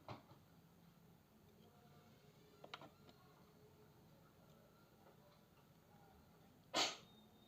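A single short sneeze bursts out near the end, after quiet room ambience with faint ticking and small clicks.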